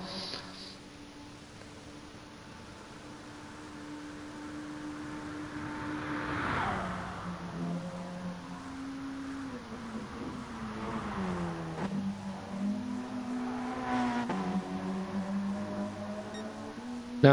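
A Group 3 Mitsubishi race car engine in a racing video game on a Brazil track, droning and rising and falling in pitch through gear changes, with a steady rumble underneath and no voices.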